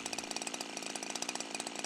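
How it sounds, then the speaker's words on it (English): A small engine runs steadily during carburetor adjustment, its needle set into the jet to lean out the fuel mixture, giving a fast, even buzzing putter close by with rapid regular pulses and no talking. "the engine is receiving the right amount of fuel and therefore runs much better"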